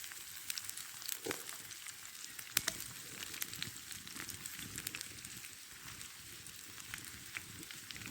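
Onion sizzling and frying in a pan over an open campfire outdoors in Scotland, a steady crackling hiss with scattered sharp pops, fairly quiet and continuous with no talking.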